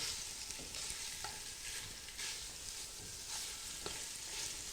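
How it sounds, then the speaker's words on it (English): Sausage sizzling steadily in a hot frying pan, a dense continuous hiss with a few faint clicks and pops, close and unbroken, with no voices. "you want to have a nice sizzling sound whenever you're adding food to the pan"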